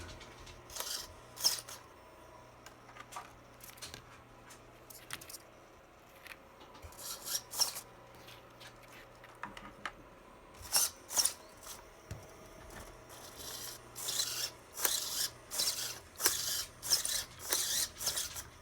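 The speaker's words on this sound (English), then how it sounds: "As you can see, the steering wheel's turning." A servo on an Axial Wraith RC car turns a movable steering wheel, giving short, quiet mechanical buzzing bursts that come in irregular spurts, then quicken into a rapid series near the end.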